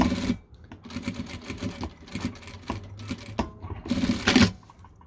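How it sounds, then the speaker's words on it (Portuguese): A sewing machine stitches a zipper onto a small fabric cosmetic pouch in short close bursts of rapid rattling, separated by brief pauses. "Vou encaixar o zíper aqui e vou passar uma costurinha aqui."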